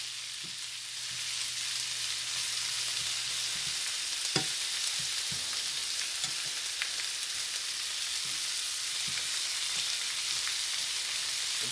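Potatoes layered over onions frying in a skillet, a constant close sizzle with scattered small crackles and light taps, no voices.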